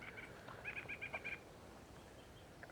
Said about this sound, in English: enjoy the birds